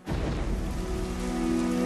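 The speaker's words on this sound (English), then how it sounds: "It had been raining for days." Heavy rain falling steadily on a muddy battlefield, a dense continuous hiss with a low rumble underneath and a faint tonal hum, loud and close.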